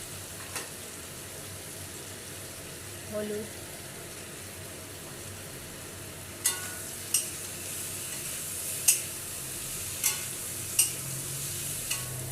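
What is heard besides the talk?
eggplant frying and being stirred in pan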